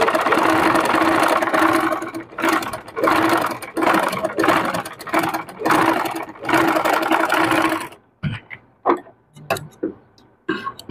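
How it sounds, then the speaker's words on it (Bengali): A sewing machine stitches along a folded dress neckline, running in steady buzzing bursts separated by short pauses, then breaking into shorter stop-start runs near the end, close and clear with no talk. "এরকম মুড়িয়ে সম্পূর্ণ সাইড আমি সেলাই করে নিচ্ছি।"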